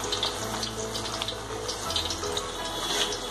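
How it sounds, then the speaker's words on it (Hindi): Chana dal frying in oil in a kadhai, a steady close hiss and sizzle with faint crackles running evenly throughout. "इसे 3 से 4 मिनट तक फ्राई करना है, जब तक ये क्रिस्पी ना हो जाए"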